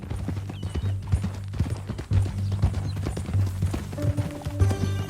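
Horse hooves clip-clop steadily in Red Dead Redemption 2, a ridden horse moving at a walk on a ranch trail with low rumbling ambience beneath, ending with faint musical tones.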